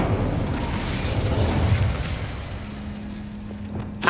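The Incendio fire spell cast in Hogwarts Legacy, a sustained roaring whoosh of flame with low rumble, loud and continuous, tapering off before a final burst at the end.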